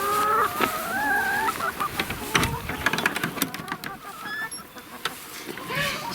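A flock of hens clucks busily inside a coop, close to the microphone, with rising calls and short squawks throughout and people talking nearby.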